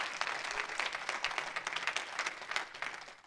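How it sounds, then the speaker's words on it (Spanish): Church congregation applauding together, a short dense stretch of clapping hands at moderate volume with no talk over it. "Dele un fuerte aplauso al Rey de la Gloria conmigo."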